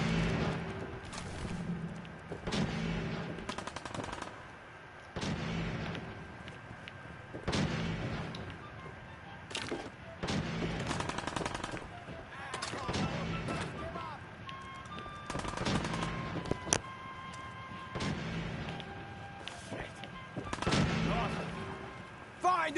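Heavy gunfire and booming blasts in Fallout 4 come in repeated loud bursts with short lulls between them, while voices shout and talk over the combat.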